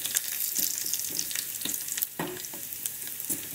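Dried red chillies sizzle and crackle in hot oil for a Kerala-style tomato curry tempering, a steady near hiss broken by sharp pops and stirring clatter throughout.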